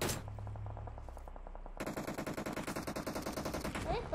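Automatic gunfire in the mobile battle royale game BGMI rattles in a rapid, evenly spaced burst of shots, loud and up front, following a short lead-in of in-game ambience.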